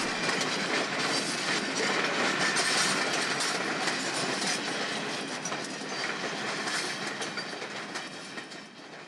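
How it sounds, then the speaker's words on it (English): An inbound Long Island Rail Road commuter train of MP-72 cars and an MP-70 double-decker rolls by close and loud, wheels clattering over the rails in a continuous rush that eases slightly toward the end. "An inbound train of MP-72s and an MP-70 double-decker pass over the former"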